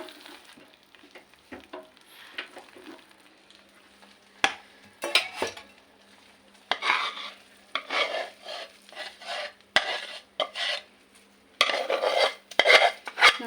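A spoon scrapes a pan as jaggery Mysore Pak that has stuck to the bottom is pried loose and moved onto a ghee-greased plate. Bursts of scraping and clinking metal come and go in uneven runs.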